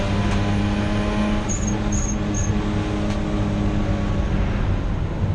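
A Mazda RX8, Honda Civic and Toyota MR2 race at Donington Park circuit, their engines a steady, dense drone throughout with a few faint high chirps partway through, and no talk.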